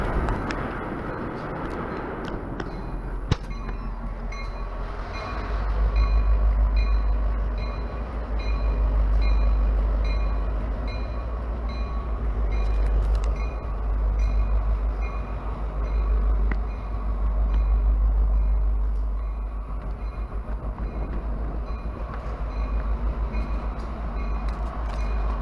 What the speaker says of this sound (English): that is the great sound of a GP38